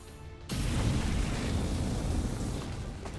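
Incendiary grenade bursting in the XCOM 2 video game: a sudden deep blast after a brief lull, followed by a sustained roaring rumble of fire that stays loud and dense to the end.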